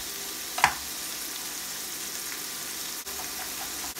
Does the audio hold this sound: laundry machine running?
no